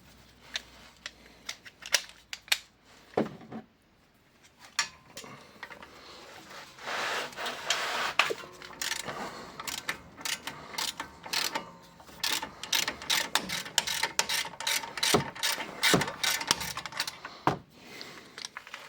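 A ratchet socket wrench works on a wheel bearing of a VW Golf 6 1.4 16V, giving close, irregular bursts of clicking and scraping with short pauses between strokes.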